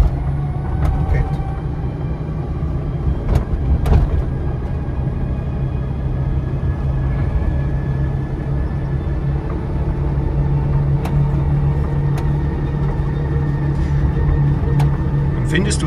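An electric Trabant 600 car drives in third gear, a low steady rumble of motor and road noise with occasional knocks from the cabin, while people talk inside.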